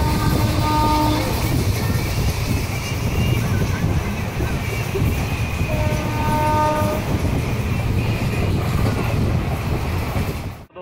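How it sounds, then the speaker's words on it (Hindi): The 04143 Khajuraho–Kanpur Central passenger train pulls out of Ragaul railway station with a steady rumble of rolling wagons, broken by two sustained horn blasts, one near the start and another partway through. "डिपार्चर हो चुका है अपनी ट्रेन का।"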